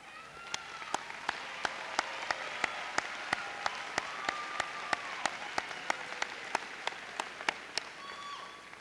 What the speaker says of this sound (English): Will the staff members please stand and get a round of applause?